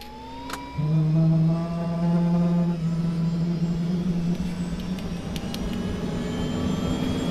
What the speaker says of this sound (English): just tap Q to spool up your engine